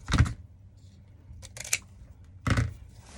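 Scissors snip through ribbon tails to shape dovetail ends for a summer ribbon wreath. Close, crisp cuts come as a burst at the start, a second near the middle and another toward the end, with quiet rustling between them.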